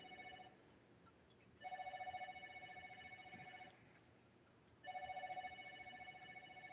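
A mobile phone rings in repeated bursts of a bright, harmonic electronic tone, each lasting about two seconds with short gaps, faint and slightly distant, with no voices.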